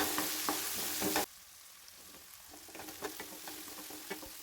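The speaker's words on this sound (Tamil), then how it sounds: "தக்காளி வந்து நல்லா ஒன்று எடுத்து பொடியாக கட் பண்ணி அதையும் சேர்த்து நல்லா வதக்கி விட்டுடுங்க" Onion, tomato and garlic sautéing in a pan for a fish-ball curry, a steady sizzle with scattered stirring scrapes, louder at first and then quieter, close and with no talking.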